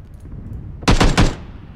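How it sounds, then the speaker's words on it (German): Gunfire in the video game PUBG, two loud, close bursts of rapid automatic shots in quick succession, standing out sharply over a quiet background with no talking. "Schießen die auf dich?"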